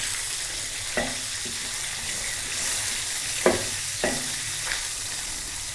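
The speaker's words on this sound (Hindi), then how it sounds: "हल्का सा मैंने इसको फ्राई किया है" Cumin seeds frying in a pan for a Pakistani samosa recipe, a steady close sizzle and crackle with a few sharp pops and clinks scattered through it, no talking.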